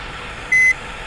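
A single short electronic beep sounds over a steady engine drone as a bus reverses in a bus-driving video game.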